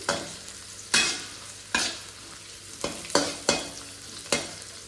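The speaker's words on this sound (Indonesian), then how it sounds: "Ini kita goreng dulu sampai matang" Small anchovies fry in a pan with a constant crackling sizzle, punctuated by half a dozen sharp scraping stirs of a utensil across the pan at irregular intervals, with no talking.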